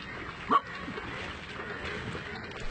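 A single short dog bark rings out at a dog contest, standing briefly above a steady outdoor background murmur.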